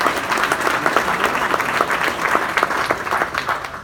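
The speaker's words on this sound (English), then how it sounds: "let's give them a big round of applause" Steady applause from an audience at a political fundraiser, dense overlapping clapping at an even level, sustained throughout without voices standing out.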